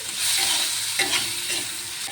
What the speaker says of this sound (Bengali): টমেটোটাকে দিয়ে একটু নেড়ে ছেড়ে রান্না করে নেব, যতক্ষণ টমেটোটা গলে না যাচ্ছে।